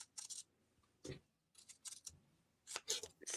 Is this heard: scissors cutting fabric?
yes